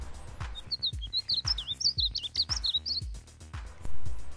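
A male painted bunting sings a rapid, warbling series of high sweet notes over a steady rhythmic thumping in the background.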